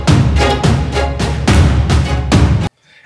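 A marching-band style snare roll in a pop music production plays as a series of dense, sustained rolls with rhythmic accents. It is loud and full, layered in the mix, and ends abruptly.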